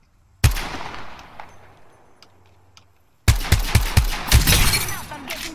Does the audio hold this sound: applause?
no